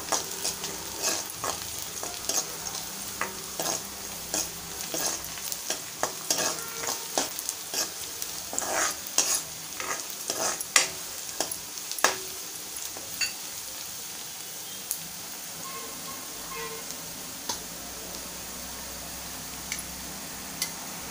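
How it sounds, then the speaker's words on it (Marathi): Chilli pieces and onion sautéing in hot oil in a pan for a Malvani-style red amaranth bhaji, giving a steady soft sizzle broken by frequent scraping and stirring clicks, close and moderately quiet, with no talking. "आपण मिरचीचे तुकडे टाकूया। तेलामध्ये परतूया 2 मिनिटं।"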